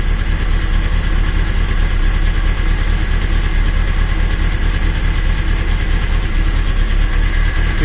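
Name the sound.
Honda CBF/CBR/Hornet 600cc/900cc motorcycle engine idling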